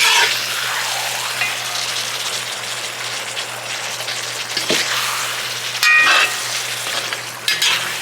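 Chicken karahi sauce sizzles and bubbles steadily as it reduces in a pan, a continuous close crackling hiss with a few brief louder spits and pops and no voices.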